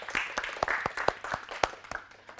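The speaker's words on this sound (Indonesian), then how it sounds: "Kita kasih aplaus untuk kelompok 3." Applause for a student group after their presentation in a university class, a short patter of claps from a small audience, moderately loud and fairly sparse, with a faint voice underneath.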